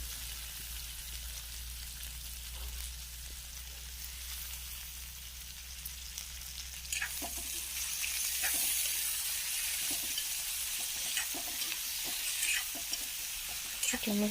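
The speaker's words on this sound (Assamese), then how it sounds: "এতিয়া মই সেইখিনি ভালকৈ আকৌ অলপ টাইম ভাজি ল'ম" Soybean chunks and potato pieces frying in a pan: a soft hiss that grows louder and denser halfway through, with scattered spattering pops and stirring clicks, close but fairly quiet, and no voices.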